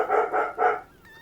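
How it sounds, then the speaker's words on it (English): A puppy barks three times in quick succession, moderately loud and close, followed by a faint high tone trailing off. "the puppy is barking now"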